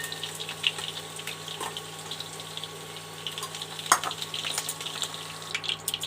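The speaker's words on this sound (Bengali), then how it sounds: "এবার আমি নুন হলুদ মাখিয়ে মাছটা ভেজে নেব।" Fish coated in salt and turmeric fries in hot oil in a home kitchen pan, a quiet continuous sizzle with a few sharp pops and crackles scattered throughout and no speech.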